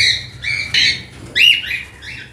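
A cockatiel in a breeding setup gives several loud, harsh squawks in quick bursts, close by, with sharp rising calls near the end.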